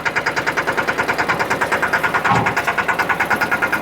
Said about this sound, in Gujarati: હવે આને આપણે રિવેસ લેવું હોય તો પહેલા ગેરમાં પહેલા ગેરમાં આ ટ્રેક્ટર રિવેસ હાલી શકે છે